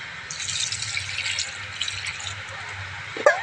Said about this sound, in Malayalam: ആവശ്യത്തിന് വെള്ളം ഒഴിച്ചു കൊടുക്കുക